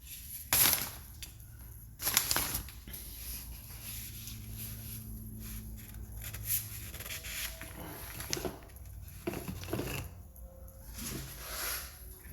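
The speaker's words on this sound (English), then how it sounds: "I'm gonna have to sand that." Sandpaper rubs a tight-fitting part of a scale dragon model, making faint, close scratchy strokes with a few louder rasping bursts over quiet room noise.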